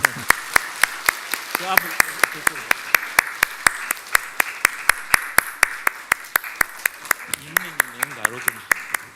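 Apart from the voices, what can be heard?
congregation applause in a church service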